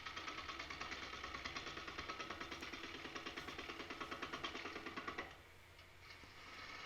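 A 5/8 inch bowl gouge makes a push cut on a spinning walnut bowl on a lathe, giving a steady rhythmic chattering buzz that pulses quickly and evenly, then drops to a quieter motor hum near the end.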